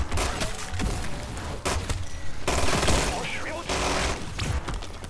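Dual-wielded guns firing in Modern Warfare 3 Zombies, rapid bursts of automatic fire in close succession with short pauses between volleys, loud and near, with a voice talking alongside.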